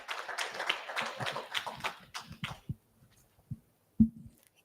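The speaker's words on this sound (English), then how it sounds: "let's clap hands for Tanatswa" An audience at a regional meeting applauds a presenter, a burst of close hand claps that thins into a few scattered claps and dies away within a few seconds.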